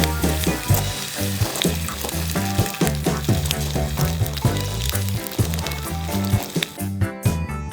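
Eggs fry on a burger grill with a steady crackling sizzle that runs throughout, mostly buried under loud rhythmic background music.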